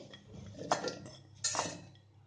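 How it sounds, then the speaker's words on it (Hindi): Pear pieces dropped into a mixer jar, two distinct clattering clinks against the container, close and fairly quiet. "अब इसको हम मिक्सी के जार में डाल देंगे"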